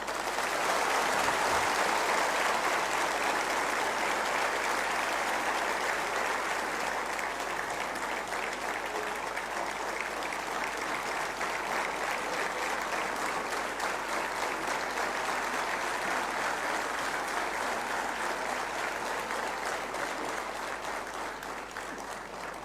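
A large audience applauds steadily for over twenty seconds, a dense, sustained wash of clapping that fades slightly toward the end.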